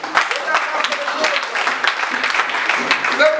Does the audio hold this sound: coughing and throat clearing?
no